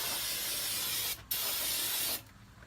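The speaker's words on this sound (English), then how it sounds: "spray these down with some brake parts cleaner" Brake parts cleaner sprays from an aerosol can onto parts of a Ford 8.8 axle in two loud, close, steady hissing bursts separated by a brief pause, and then the hiss cuts off.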